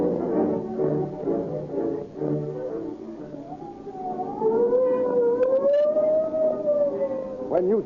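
A police siren in an old-time radio drama rises and wails steadily, growing louder after a voice fades out.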